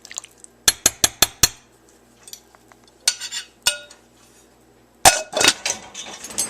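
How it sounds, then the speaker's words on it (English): Sharp metallic clinks and clatters of a frying pan and dishes being washed, a quick burst of knocks, a few scattered taps, then more clattering nearby. "finish washing that frying pan"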